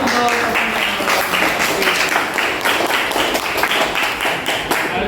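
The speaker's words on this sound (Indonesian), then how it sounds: "Oke, tepuk tangan positif ya." A group of teachers at an academic coaching workshop claps together in a loud, rhythmic, patterned sequence of sharp claps that runs for about five seconds, close by.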